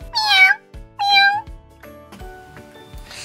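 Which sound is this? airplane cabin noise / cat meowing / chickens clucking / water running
cat meowing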